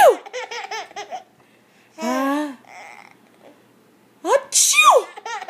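Loud sneezes break out between bursts of baby laughter and giggling, with quiet gaps in between.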